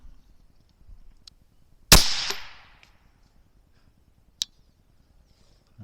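A single sharp rifle shot cracks out loud, fired while zeroing a clip-on thermal scope at a range, with a short echoing tail, then a faint click later in otherwise quiet outdoor air.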